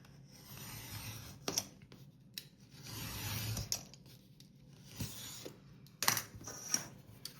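Board for a journal cover is cut by hand with rough rasping and rubbing strokes. The cuts come in uneven bursts with sharp clicks between them, close and quiet, and no one speaks.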